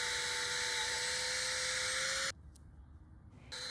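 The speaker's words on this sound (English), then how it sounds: "I drilled a hole on each end of the perch where I wanted the rope to go." Steady high whine of a power drill boring a hole into a wooden log perch, close and loud for about two seconds before it cuts off, followed by brief quieter whirring.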